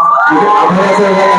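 An audience at a youth festival prize ceremony cheers in a loud, continuous burst of crowd noise with mixed shouting voices.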